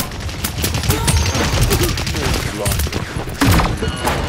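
Dense bursts of rapid gunfire and explosive shots crackle continuously in the video game Paladins, loud and layered over game announcer voice lines.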